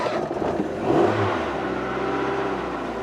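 A car engine cranks and catches with a brief surge, then settles into a steady, fairly loud idle with a continuous hum and light clatter, no voices.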